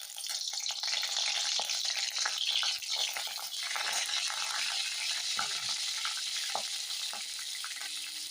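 Dried red chillies fry in hot oil with a steady, dense sizzle throughout, broken by occasional clinks and scrapes as they are stirred in the pan.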